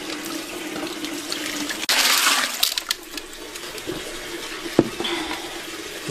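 Water poured from a tap or vessel over corn to rinse it for hand-made tortilla dough: a short rushing splash, then small drips and sloshing nearby.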